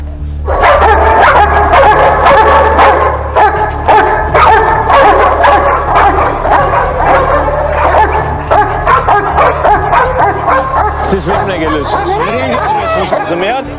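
Drug-sniffing dogs bark loudly and repeatedly close by, a busy run of sharp yips and barks over a low engine hum, with voices talking through it.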